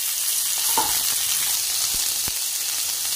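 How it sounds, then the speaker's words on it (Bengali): Chopped carrot, peas, cauliflower, potato and beans hit a hot pan with lightly fried onion and sizzle steadily. A close, continuous hiss carries a few sharp stirring knocks, with no talking. "আমি সবজি ঢেলে দিচ্ছি"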